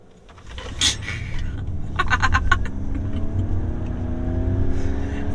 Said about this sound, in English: Let's go do a launch from a stop sign here.